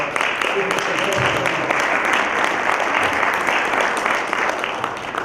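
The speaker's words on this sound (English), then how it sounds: "Would you give yourselves a round of applause?" A crowd gives itself a round of applause, loud sustained clapping from many people filling the room, with voices faintly mixed in at the start.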